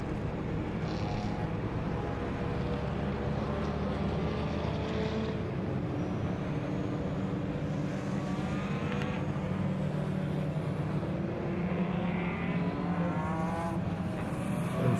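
Race cars at the 2022 MSA Regional Extreme Festival, round 3, lap behind the safety car with a continuous engine drone and whine that rises and falls slightly as they pass, steady and moderately distant.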